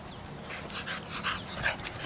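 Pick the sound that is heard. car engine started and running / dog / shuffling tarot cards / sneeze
dog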